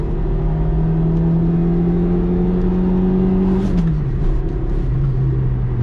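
Citroen ZX 1.4i 75 hp from 1992 at full throttle in city driving, a loud steady engine drone and whine heard from inside the car that drops in pitch near the end as the revs fall.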